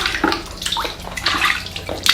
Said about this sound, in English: just wash it one more time with Star San